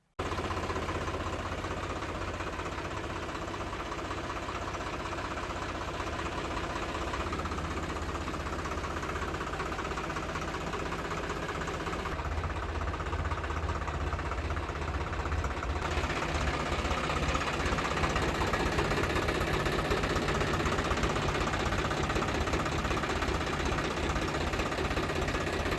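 A Mahindra tractor engine runs steadily at idle, a loud continuous low rumble with a faint knocking pulse, close by and unbroken throughout.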